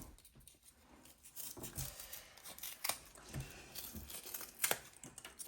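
Scissors snip and crinkle through material while a part for an RC car is cut out, a series of irregular sharp cuts and rustles at close range, with no talking.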